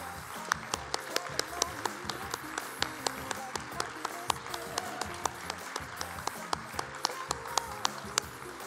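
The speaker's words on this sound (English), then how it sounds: "Can we please have all the models come out on stage to get your round of applause?" Gala attendees applaud the models coming out on stage, a fairly quiet, sparse clapping with distinct individual claps popping out in a loose rhythm across the whole stretch.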